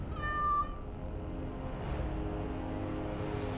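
A cat meows in Dragon Age: Origins, a single short harmonic mewl near the start over a steady low game ambience that carries on alone afterward.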